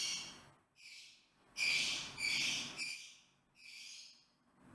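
A pet bird screeches in repeated harsh, piercing bursts, loud and close, with short gaps between the calls and no talking.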